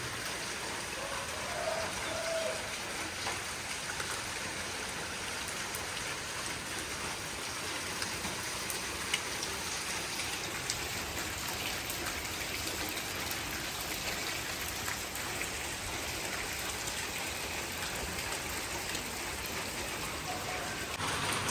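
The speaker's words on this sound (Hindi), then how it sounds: "माशाल्लाह से रात से इसी तरह गरज चमक के साथ तेज़ बारिश चल रही है" Heavy rain pouring steadily overnight in a village, a dense, even hiss of drops on surfaces with a faint high whine above, continuous and close with no talk.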